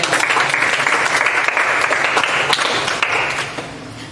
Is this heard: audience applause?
yes